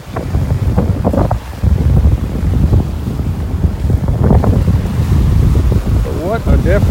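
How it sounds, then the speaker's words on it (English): Strong wind buffets the microphone on a beach at sunset in North Naples, Florida, a loud continuous rumble that swells and gusts throughout, with surf faintly beneath and no clear speech. "The wind is so strong."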